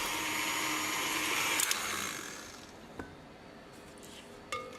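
An electric mixer creams butter, sugar and molasses, whirring loudly and steadily for about two seconds before winding down, followed by a few faint knocks against the bowl.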